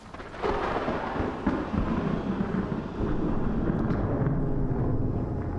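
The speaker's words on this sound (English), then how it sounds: "Love the crackle of that thunder." Crackling thunder in the 7th Guest Remake game rolls on continuously, a dense, loud rumble with sharp crackles, heard up close with no voices over it.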